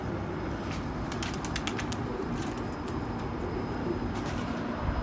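White and red pigeons in a loft coo low and continuously while bursts of wing flapping rise several times, close by over a steady murmur of the flock.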